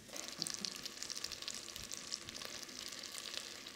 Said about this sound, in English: start to sear that paste into the chicken